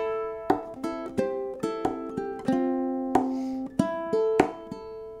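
A ukulele plays bars seven and eight of a riff, crisp plucked single notes in a steady rhythm with occasional percussive taps, close and unaccompanied.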